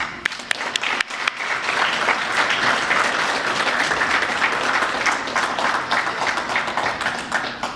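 Sustained round of applause from an audience honoring Avenel Middle School staff and administration at a school Day of Giving event, a few scattered claps building quickly into dense, steady clapping that holds throughout.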